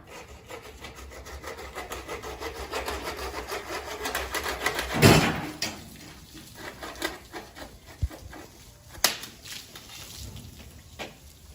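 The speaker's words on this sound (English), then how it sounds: "it's getting done with the scraping there" A clean-up crew scrapes at a Phoenix, Arizona pool, making repeated rasping rub strokes in an uneven rhythm, with a louder scraping burst midway and a few sharp knocks, close and without voices.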